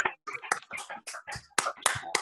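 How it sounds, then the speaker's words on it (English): Scattered audience clapping at the close of a lecture-hall question session, a quick run of uneven claps and hand slaps, close and moderately loud with no talk over it. "A round of applause for everyone."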